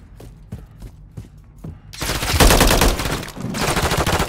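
Holger 556 assault rifle fire in Call of Duty Modern Warfare 3: a few sparse single shots give way to loud, sustained automatic bursts layered with more gunfire and battle noise.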